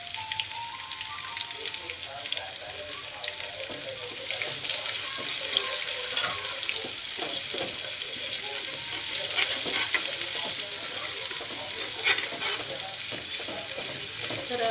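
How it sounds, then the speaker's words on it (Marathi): Finely chopped onion frying in hot tempering oil for a Kolhapuri vegetable curry, a soft steady sizzle with intermittent scraping stirs, fairly quiet and close, with no talking. "बारीक चॉप करून ठेवलेला, तो पण आता मी फोडणीमध्ये घालून घेणार आहे."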